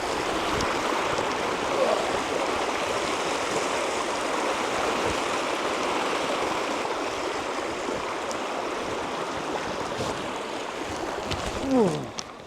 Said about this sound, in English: So that's the river Nethy Cross,